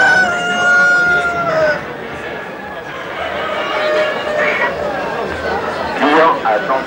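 Roosters crowing at a rooster show at a fair, several long crows overlapping at varying distances, with crowd chatter and someone speaking underneath.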